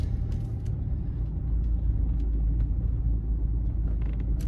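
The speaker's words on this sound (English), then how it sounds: "And then we'll also drive over the speed bump." A BMW 320d M Sport rolls slowly over a speed bump, heard from inside as a steady low engine and road rumble with a few faint soft thumps, no knocks or bangs and no talking.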